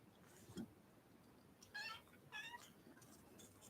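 A cat meows a couple of times in a quiet room, two short, fairly close calls close together after a faint earlier sound, with no talking.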